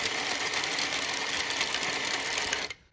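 Electric motor of a 3D printed gearbox shredder with a broken coupling, a steady close buzzing whir that runs evenly for nearly three seconds and then cuts out abruptly.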